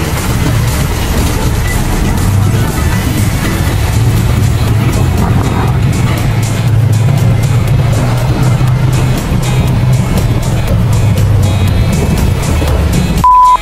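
Steady road traffic with car engines rumbling continuously and fairly loud on a summer drive in Bulacan, Philippines, with faint talk in places.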